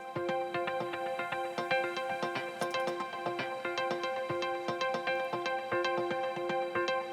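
An Omnisphere synth preset plays a repeating pattern of short plucked attacks over sustained chord tones, steady and rhythmic with a bright, shimmering edge.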